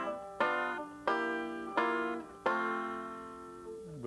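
Five-string banjo chords moving in sequence, four bright, twangy strums spaced roughly two-thirds of a second apart, each ringing and decaying with metallic shimmer, recorded close and alone without speech.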